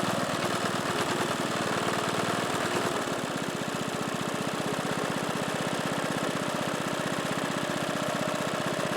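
A California Trimmer mower's small engine idles steadily and close up, a continuous, slightly rattly chugging that runs unbroken throughout with no talking.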